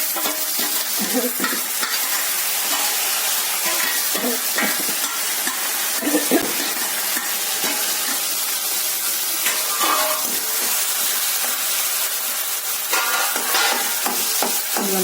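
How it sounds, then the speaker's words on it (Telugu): A spoon stirs elephant yam and amaranth leaf curry in a pan, with scraping and clinking against the metal over a constant frying sizzle, close and fairly loud, no voices. "ఇందులోనే వేసుకొని బాగా కలిపేసేయాలి"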